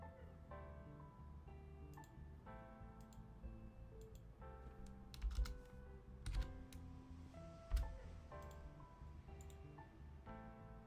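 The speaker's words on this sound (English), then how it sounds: "I'm typing it into another program that actually has spell check" Steady typing on a computer keyboard, continuous soft key clicks in irregular bursts, close and fairly quiet, with a few sharper louder taps and no speech.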